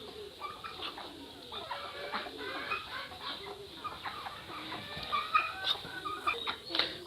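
Chickens cluck repeatedly in a busy, uneven chatter, with some other birds calling and voices faint in the background.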